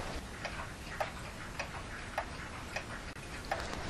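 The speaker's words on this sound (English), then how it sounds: "Most people that come in, they like the sound of ticking clocks." Clocks tick steadily in a clock shop, with crisp regular ticks at about half-second intervals over a soft room background, and no voices.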